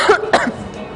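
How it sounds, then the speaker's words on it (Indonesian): A woman coughs twice in close succession, loud and close, with a short throat-clearing rasp between the bursts and quiet room tone afterward. "Dari tadi aku nggak berhenti batuk"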